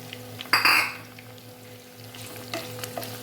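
Halved shallots and green chilies frying in oil, stirred in a pan with a spoon: a loud scraping clatter near the start, then a steady soft sizzle with a few lighter scrapes, close up.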